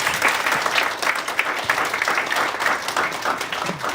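Audience at a UX design talk event in Auckland giving a big round of applause, dense close clapping that stays loud and lively across the few seconds.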